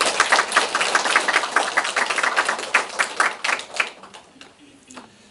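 A small audience claps together in a dense, lively round that dies away in the last second or so.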